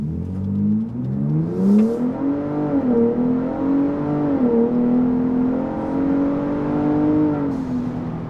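Ford Bronco Raptor accelerating hard in normal mode, engine note climbing through rising gear pulls from inside the cabin, loud and steady with brief shift dips, no talking.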